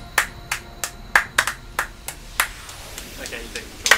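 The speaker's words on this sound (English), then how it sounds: "Let's clap for his proof that he did it." Hands clap in a loose, uneven series of about a dozen sharp claps, some close together and some spaced apart, fairly close and moderately loud over faint background noise.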